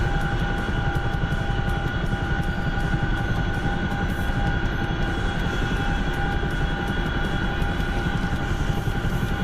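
A Chinook helicopter's engines run in a video game as a loud, steady, unbroken drone with a faint rapid beat of rotors, close and constant throughout, with no voices.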